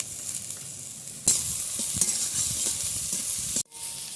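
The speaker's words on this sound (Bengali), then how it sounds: "পেঁয়াজ আর গাজর দিয়ে একটু ভালো করে ভেজে নিয়েছি" Onion and carrot fry in a pan with a continuous close sizzle, broken by a few spoon scrapes and stirring knocks, and it briefly drops out near the end.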